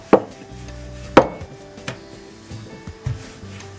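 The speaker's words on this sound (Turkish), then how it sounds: "Bu şekilde şimdi merdane ile açmaya başlıyorum." Dough for Eskişehir-style çiböreks is worked with a rolling pin on a board, giving sharp wooden knocks and light thuds at irregular intervals, close and alone.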